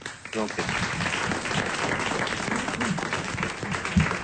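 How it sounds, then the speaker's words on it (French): Studio audience applause on a French talk show, a dense steady wash of clapping sustained for several seconds with voices mixed in underneath. "On vous applaudit."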